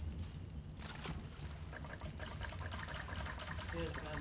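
A character drinks water in the video game Ark: Survival Ascended on The Island map, a continuous gurgling liquid sound at moderate level, with a voice talking faintly underneath.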